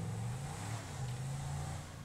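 The Huntley SUV's engine in the GTA Online video game gives a faint, steady low hum and drone that holds evenly throughout, with no talk.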